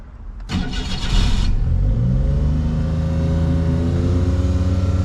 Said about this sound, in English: I'm pretty sure it's going to continue to idle high. I don't see why it'll fix itself, but let's give her a start.